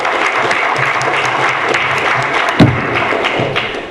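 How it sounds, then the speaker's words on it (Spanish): An audience at a tax law lecture applauds loudly and continuously, dense clapping throughout with a single thud partway through and no speech over it. "Por favor, un fuerte aplauso"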